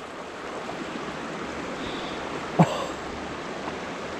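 Steady broadband rush of the Yarra River stream flowing close by, continuous and even, with a brief exclamation from a man partway through.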